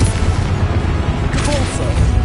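The Confringo explosive spell goes off in Hogwarts Legacy combat, a sudden booming blast with a crackling burst over a dense rumbling background, loud and close, lasting under a second.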